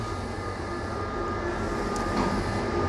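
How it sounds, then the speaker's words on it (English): A heater in a workshop housing an NSU Ro80 gives off a steady, broad rumbling drone with a constant hum under it, running unbroken and fairly loud with no talking. "Oh, the heater's come on."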